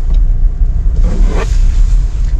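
Toyota Fortuner with a 2800 cc engine on the move, heard from inside as a steady, close, deep engine and road rumble with a brief swell of tire and wind noise midway.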